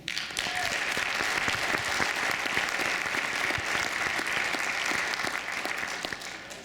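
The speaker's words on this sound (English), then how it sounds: "Let's also have a round of applause for West Hills Middle School." Audience at a special-election state senate debate for Utah Senate District 10 breaks into sustained, steady applause, dense and fairly loud throughout, fading slightly near the end.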